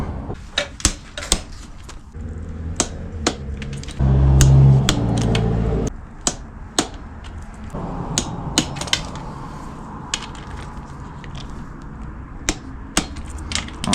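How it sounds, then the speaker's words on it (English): A torque wrench tightens the cylinder head bolts on a KTM 300 TPI engine, giving a series of sharp metallic clicks and taps at an irregular pace, with a brief louder ratcheting stretch. "got a tension wrench set at 27 foot-pound. We'll torque these head bolts up."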